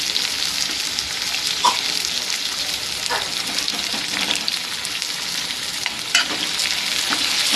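Tomato and Kashmiri red chili powder fry in a pan with a steady, close sizzle, broken by a few louder spits and stirring scrapes throughout.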